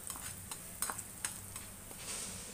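Red chilli is stirred into a hot garlic tempering in a pan for dal khichdi, with light metallic spoon scrapes and clinks over a faint sizzle.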